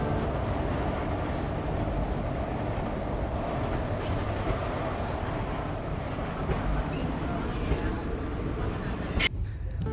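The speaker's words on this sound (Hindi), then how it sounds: "ट्रेन की रफ्तार बस 30 किलोमीटर पर आवर की ही रहती है" A small three-coach passenger train runs through Uttar Pradesh at about 30 km/h, giving a steady, continuous rumble of wheels and carriage noise throughout, with a brief drop in level near the end.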